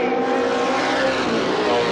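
Race cars roaring past at Winchester Speedway, a loud, dense, continuous engine wash that fills the whole moment with no break.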